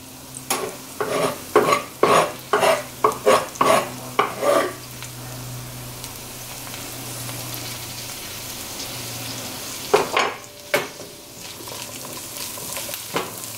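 Green olives with red pimento and chopped parsley sauté in a pan, with a run of rhythmic stirring scrapes over a steady sizzle, then a quieter sizzling stretch before a few more stirs near the end.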